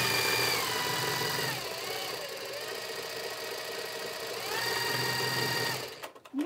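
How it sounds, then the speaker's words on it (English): A domestic sewing machine winds a bobbin with a steady, close mechanical whir that shifts pitch as it speeds up and slows down, then stops with a few clicks near the end, with no talk. "I'm gonna wind one more bobbin."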